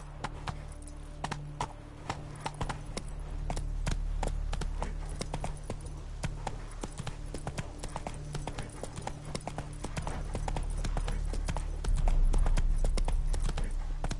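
Horse hooves gallop in The Witcher 3, a rapid, steady clip-clop of hoofbeats carrying on throughout over a low rumbling background.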